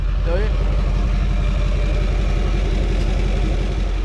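A deep, steady Duramax diesel truck idle rumbles continuously and loudly up close through the exhaust, with a low pulsing throb and no break.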